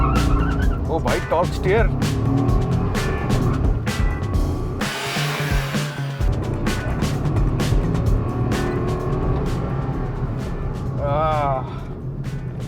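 A small Renault Kwid car accelerating hard from standstill toward 60, its engine droning loudly and steadily from inside the cabin under excited talk between occupants.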